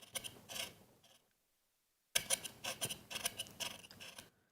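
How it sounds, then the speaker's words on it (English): A plain kitchen knife scrapes and peels the skin off a vegetable in two close bursts of dry, rasping strokes, separated by a brief silent pause. "the same can be peeled or scraped, I will say, with the plain knife this way"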